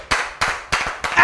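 A church congregation clapping in four sharp, evenly spaced bursts, close and fairly loud with no talking.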